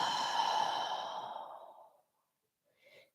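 A deep, breathy exhale during a yoga breathing exercise, loud and close, trailing off over about two seconds into silence before a faint short breath at the end.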